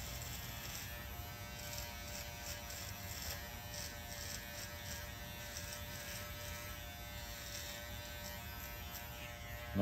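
Electric hair trimmers cutting a skin fade give a steady, continuous buzz throughout, close and even in level, with no talking.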